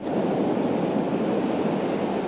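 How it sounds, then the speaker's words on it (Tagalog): Typhoon winds and heavy surf pound the coast near Kasiguran and Dilasag, a loud, unbroken roar of wind and crashing waves that fills the air without pause. "Ramdam yan sa lakas ng mga alon at hangin"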